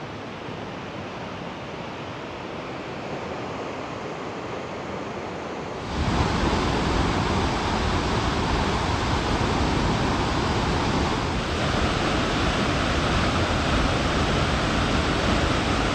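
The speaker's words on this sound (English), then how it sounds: "you can hear the water running" Steady rushing waterfall roars nearby, growing suddenly louder partway through and holding as a dense, continuous wash of noise.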